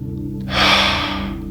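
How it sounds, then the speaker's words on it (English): One deep inhalation, drawn slowly through the mouth as a soft, airy rush that swells and fades over about a second, heard close and alone above a low steady background hum. "Take a deep breath in."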